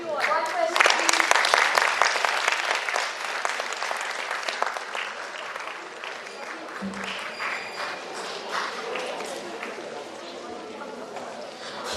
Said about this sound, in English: I think we need to give them a big round of applause for spending time with us.